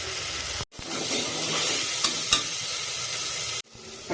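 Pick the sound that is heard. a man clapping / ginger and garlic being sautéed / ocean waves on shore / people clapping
ginger and garlic being sautéed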